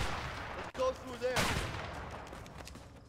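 Gunfire in the video game A Way Out, a burst of shots up front followed by a rattling spray of fire that trails off into background game noise, with a voice exclaiming briefly.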